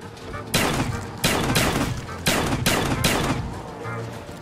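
Shotgun blasts in Call of Duty Black Ops 3 zombies, five heavy booming shots spaced about a second apart, loud and close, with game sounds filling the gaps.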